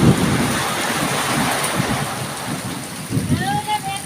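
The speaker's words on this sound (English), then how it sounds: "Oh, a lovely bit of rain. Few lightning flashes." Steady rain falls through a rainy afternoon in the Philippine countryside near sugar cane fields, with low thunder rumbling underneath and a vehicle passing close by.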